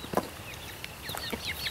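Backyard chickens cluck and chirp close by in short, scattered calls, with a low rumble of background noise underneath.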